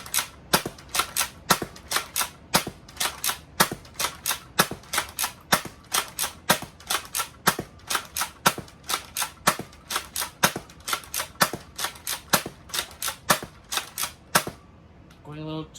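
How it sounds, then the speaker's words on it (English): A powerful foam blaster fires Adventure Force waffle darts in a long run of about two dozen sharp, loud cracks in a quick, fairly even rhythm, close to the listener, with a clatter at the end. "we're going to be firing all 40 of the included Adventure Force waffle darts, some single fire and some slam fire."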